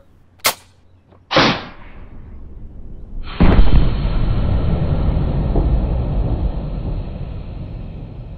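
A high-pressure launcher at 430 psi fires a supersonic Nerf dart, giving a sharp crack followed by a second loud burst and then a sustained roaring hiss that trails on for several seconds, with no talk.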